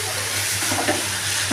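Ground taro paste fries in oil in a pan with salt and turmeric added, giving a steady close sizzle with faint stirring scrapes and no voices.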